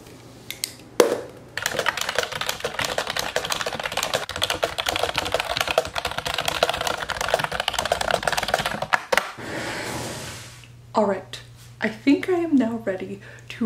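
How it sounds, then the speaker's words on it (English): Steady, fast clicking of computer keyboard typing runs for about eight seconds, close and continuous, followed by someone talking over a low hum. "it was time to write out and type out all of my favorite passages"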